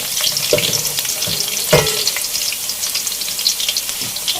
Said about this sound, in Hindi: ताकि वो भी हमारे प्याज के साथ हल्की सी फ्राई हो जाए